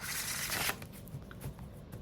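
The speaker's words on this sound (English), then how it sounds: "And then do the best shuffle I can with these." Oversized tarot and oracle cards being shuffled by hand, a dense, close papery riffling and rubbing that runs steadily, then thins into softer scattered card slides.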